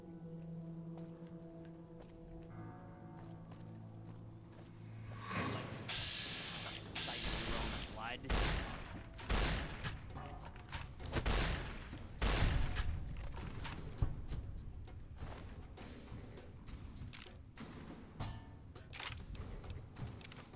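Gunfire in Fallout: New Vegas: a run of sharp, loud shots and impacts cracking out one after another at irregular intervals, mixed with clattering game effects and some talk.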